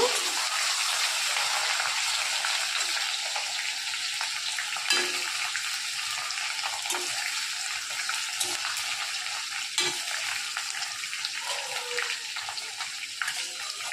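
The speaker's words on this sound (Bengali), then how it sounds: "তারপরে দিব অল্প রসুন। তারপরে দিব আদা কুচি। এটা ভালো মতন ফ্রাই করে নিব।" Garlic and chopped ginger frying in a pan, a loud continuous hiss and sizzle up close, with occasional soft knocks and scrapes from stirring.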